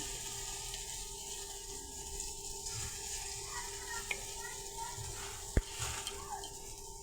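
Round balls of palm fritter batter dropped into hot oil, a gentle continuous sizzle of frying with a few small clicks and taps of a utensil, no talking.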